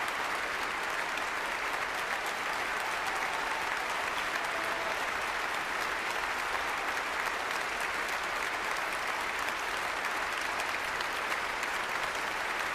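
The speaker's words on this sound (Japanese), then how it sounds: "再び聴衆は辻井さんに割れんばかりの拍手を浴びせました" A concert audience in Vienna applauds pianist Nobuyuki Tsujii with thunderous, sustained clapping, an even, unbroken roar of many hands heard from within the hall.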